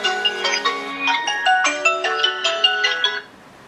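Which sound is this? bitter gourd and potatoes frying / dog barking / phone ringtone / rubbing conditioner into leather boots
phone ringtone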